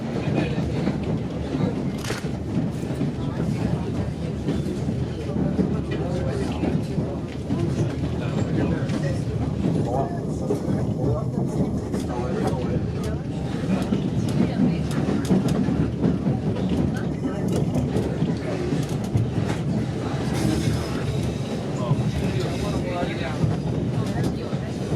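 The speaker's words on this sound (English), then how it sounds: "Our train is passing through a granite corridor called Rocky Point" A White Pass & Yukon Route train rolls steadily through a granite corridor at Rocky Point, continuous low rumble and rattling clatter, with wind buffeting the microphone throughout.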